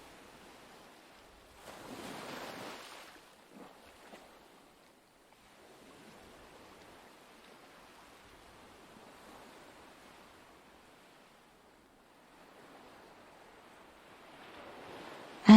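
Atlantic waves breaking on a freezing, snow-dusted rocky shore of a west coast, a soft distant wash of surf swelling and fading over a steady hush of wind.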